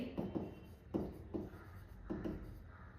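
Pen writing on paper in a quiet room, with soft scratchy strokes coming in short, regular bursts about every half second, close and faint.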